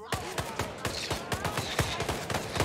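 Rapid machine gun bursts in the stealth action game Hitman 3, a steady stream of sharp, evenly spaced shots running the whole time, loud and close, with a faint voice underneath.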